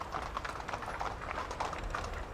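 Hooves of the horses pulling a horse-drawn funeral carriage clop steadily on a street outside a church, a dense, continuous clatter at moderate distance under outdoor ambience.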